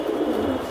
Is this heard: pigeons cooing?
yes